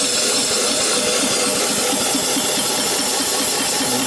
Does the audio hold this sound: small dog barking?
no